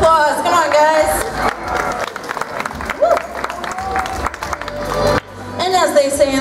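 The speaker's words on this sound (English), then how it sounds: "Let's give him a round of applause." Cheering and clapping from a crowd at Street Fighter V tournament finals rise in bursts, mixed with loud excited voices and music-like tones, cutting off briefly before resuming.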